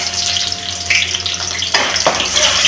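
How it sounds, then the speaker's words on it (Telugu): Onions sizzling in hot oil in a pan, a steady bright crackle with occasional sharper spits and stirring scrapes, close and continuous with no talking. "ఆయిల్ వేడైనాక ఉల్లిపాయలు వేసుకుంటున్నా"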